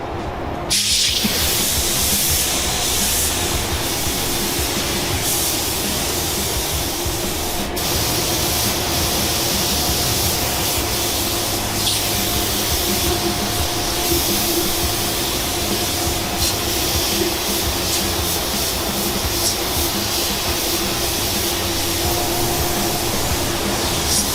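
Spray gun laying an etch primer coat on a scrap-yard burnout truck, a steady loud hiss of atomized paint running continuously and close with only brief breaks.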